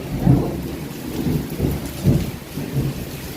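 Low rumbling thunder rolls in repeated pulses over steady rain in the year's first monsoon storm, loud and close, with no voices.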